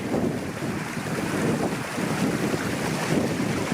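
Wind buffeting a microphone beside a brook on Dartmoor, a continuous low rumbling roar that swells and eases slightly throughout, with no voices.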